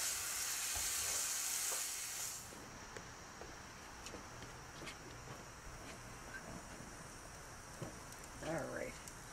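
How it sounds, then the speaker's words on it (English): Tomatoes cooking in a pan for a pork chop piperade give off a bright, hissing sizzle that is loudest for the first two seconds, then settles into a quieter steady crackle with occasional small pops. "And you just want to let it cook for about 5 minutes, just to get a little liquid out of those tomatoes"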